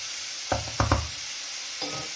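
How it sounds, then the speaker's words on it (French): A sausage and mushroom pie filling is stirred in a sizzling pan: a few close scraping strokes of a utensil over a soft, steady frying hiss, with no talk. "On mélange bien le tout."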